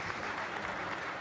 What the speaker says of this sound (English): claps for this 2-point lead in the second game as well by his coach Hannes Dösseler